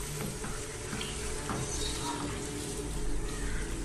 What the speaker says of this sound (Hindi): भूनना है।